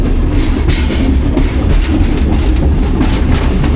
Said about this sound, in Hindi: इसमें 106 डाउन रावल एक्सप्रेस का सफ़र जारी है